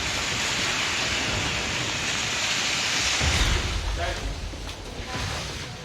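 Steady rain pours in Delhi, a dense hiss filling the scene with a heavier surge of water partway through, while a voice speaks over it.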